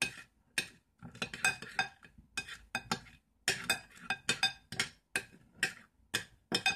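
Slime preparation being stirred and mixed in a container, heard as a run of quick, close clicks and tapping knocks in uneven bursts with short pauses, no voices.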